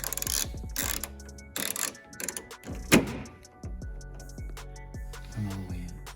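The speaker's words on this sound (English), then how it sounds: "now I'm gonna tighten the screw on the outside all the way in" Mechanical clicks and ratcheting from a screw being tightened into a Ford Mustang GT door latch mechanism, close up, with a sharp metallic snap near the middle amid workshop handling noises.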